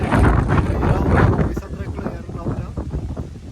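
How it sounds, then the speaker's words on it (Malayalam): Strong wind on a foggy hilltop at Top Station near Vattavada buffets the microphone in heavy, roaring gusts, loudest at first and then easing into uneven bursts, with voices faintly mixed in. "നല്ല കാറ്റ്"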